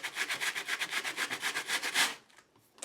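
Steady rhythmic rasping of sandpaper rubbing chalky gesso off a plastic-feeling fabric, a fast even stroke pattern lasting about two seconds before stopping abruptly, leaving near-silence.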